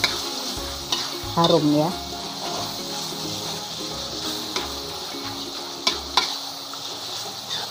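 Vegetables for a leaf-based vegetable lodeh stir-fried in a hot pan, a steady close sizzle broken by scraping stirs and spatula clatter, with a person speaking briefly over it.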